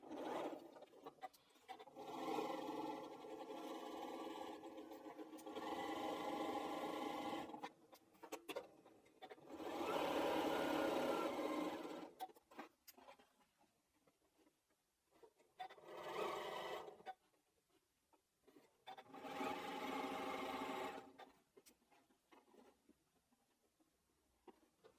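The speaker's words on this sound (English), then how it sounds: "I'm going to sew 1/4 inch all along this long edge" A sewing machine runs a quarter-inch seam along the long edge of a quilt block cushion, in several steady bursts of close, loud stitching separated by short pauses and quiet handling, with no talking.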